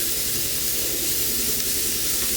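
A cup of diced yellow onion sizzles in hot oil in a pan, giving a loud, steady, unbroken hiss of frying with no voices over it.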